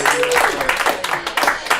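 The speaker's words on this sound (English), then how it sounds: "Round of applause, yes!" An audience at a live comedy show bursts into applause, with dense, fairly close clapping and some cheering voices through a short burst.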